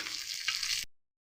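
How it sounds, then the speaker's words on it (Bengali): Ginger paste fries in hot oil with a quiet, steady crackling sizzle that runs for under a second and then stops abruptly. "ভালো করে একটু আদাটা ভালো করে ভেজে নেব।"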